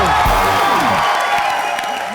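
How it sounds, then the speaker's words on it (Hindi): A studio audience at the Comedy Nights Live TV comedy show breaks into loud, sustained clapping and cheering that fills the whole moment, close and dense. "जोरदार तालियां हो जाए."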